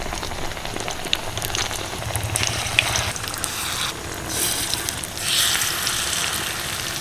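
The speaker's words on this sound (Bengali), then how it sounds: "এবার এটাকে ধরে এইভাবে তেলের মধ্যে ছেড়ে দেবো আর এইভাবে ভাজলে কিন্তু একটাও ছেড়ে যাবে না" Batter-coated cabbage pieces frying in hot oil give a steady, close crackling sizzle that swells in spots as the pieces are moved, with no talking.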